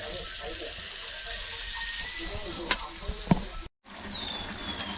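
Bangda (mackerel) fish frying in a pan, a continuous bright crackling sizzle with a few sharp pops and clinks, broken briefly by a short silence near the end.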